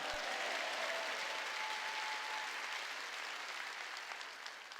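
A church congregation claps together in steady, dense applause that holds evenly, then slowly eases off toward the end.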